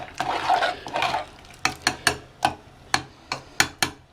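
Spoon scraping and clinking against a pot while millet tomato rice is stirred, first a few soft scraping strokes and then a series of sharp, evenly spaced metallic taps, close up with no voices.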